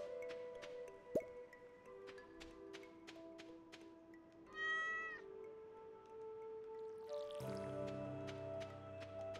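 Cartoonish cat meows from a Stardew Valley pet cat, several short mewing calls over soft background game music and small dripping, clicking effects.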